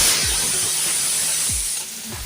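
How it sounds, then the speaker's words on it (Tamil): Onions with freshly added chopped green chillies sautéing in a pan, a steady close hiss and sizzle with a few soft low knocks from stirring, the frying noise easing slightly toward the end. "வெங்காயம் நல்லா வதங்கும் போதே நம்ம வெட்டி வச்ச பச்சை மிளகாவை சேர்த்துக்கலாம்."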